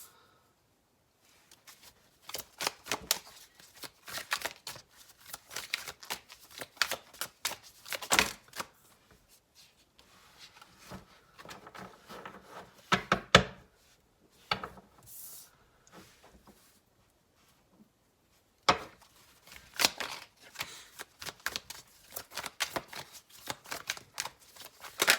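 Tarot cards shuffled and drawn from a deck, with bursts of riffling and soft card slaps close to the microphone, separated by short quiet pauses and no talking.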